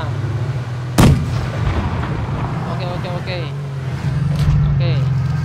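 A tank cannon in World of Tanks Blitz fires one sharp, loud boom near the start, with a second heavier shot later over an engine rumble, while a person speaks throughout.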